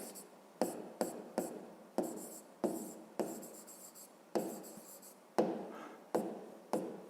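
Someone writing out a fifth-grade maths word problem by hand, the close, scratchy strokes coming in about a dozen short bursts separated by brief pauses, with no talking.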